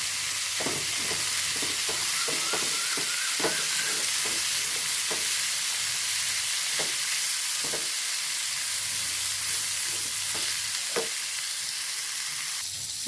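Garlic and curry leaves sizzle and fry in hot oil in a pan, a steady close crackling hiss with scattered sharper pops and spits throughout, no voices.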